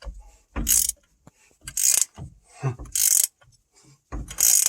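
A hand ratchet clicks in repeated bursts while pressing an independent rear suspension cross axis joint into a knuckle, with sharp, close, bright ratcheting strokes separated by short pauses.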